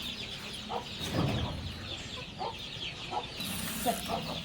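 Small chicks in a brooding room on a country-chicken poultry farm chirp and cluck steadily while feed is scattered for them, a busy close chorus with no talk.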